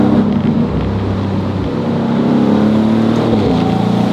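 A 2025 Maserati GranCabrio Trofeo engine running close and loud, a steady throaty drone with a slight rise in revs partway through and no voices over it.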